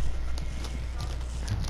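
Horse hooves in the video game Red Dead Redemption 2, a quick steady clip-clop of galloping steps over a low rumbling background.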